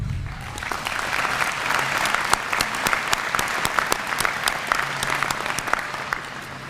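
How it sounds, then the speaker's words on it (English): An audience at a university commencement ceremony applauds steadily, a dense wash of many hands clapping continuously for several seconds. It is fairly loud and heard from within a large hall. "Please give them a round of applause."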